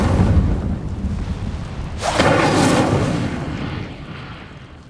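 An Incendio fire spell cast in Hogwarts Legacy, a deep rumbling roar that swells into a bright whooshing burst of flame midway and then slowly fades, loud and close, with no talk.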